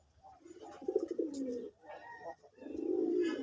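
Putul doll pigeons coo softly nearby in a few low rolling bursts with short pauses between them.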